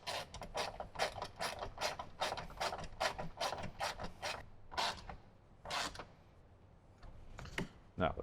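Ratchet tightening bolts during a speaker installation in a Jeep JL, a rapid close series of crisp clicking strokes in bursts, pausing and resuming.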